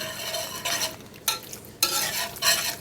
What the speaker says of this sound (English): Just going to keep stirring it around.